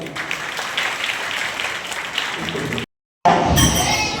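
An audience at a Shiv Sabha gathering at a Mahadev temple applauds a musician with sustained clapping that cuts off abruptly, followed by a short silence and then a burst of other noise.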